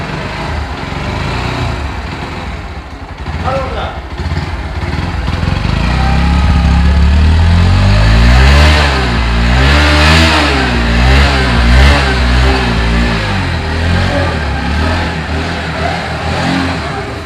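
A Bajaj Pulsar NS 125 motorcycle engine runs loud and close, idling then revving up and down in rising and falling sweeps before settling back to a steady idle.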